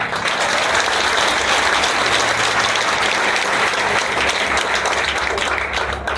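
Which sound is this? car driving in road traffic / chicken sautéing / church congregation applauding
church congregation applauding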